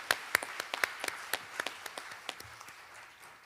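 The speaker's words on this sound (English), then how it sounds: "A round of applause, everyone, for our mridangist, Sri Guru Murthy." An audience claps for a mridangam player at a classical dance recital, scattered distinct handclaps over a softer bed of applause that tapers off within a few seconds.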